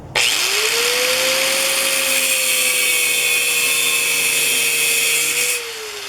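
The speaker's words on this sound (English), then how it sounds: "So we're going to use the grinder." A grinder whines up to a steady high-pitched spin and cuts through a screw with a continuous harsh rasp. It is loud and close, then drops as the cut finishes near the end.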